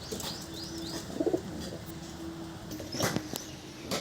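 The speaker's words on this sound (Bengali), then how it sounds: "এই পায়রাটা হচ্ছে মেদ্রাসি লাইনের পায়রা" A Madrasi line pigeon in a rooftop loft gives soft, close coos, with faint bird chirps and scuffling around it in a quiet setting.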